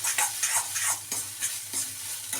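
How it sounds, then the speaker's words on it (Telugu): Chopped vegetables and green chillies stir-fried in a pan over a high flame, with repeated scraping stirs and a steady sizzle, close and loud, with no talking. "ఇప్పుడు ఈ వెజిటేబుల్స్ అనేవి హై ఫ్లేమ్లోనే మనం ఫ్రై చేసుకోవాలండి."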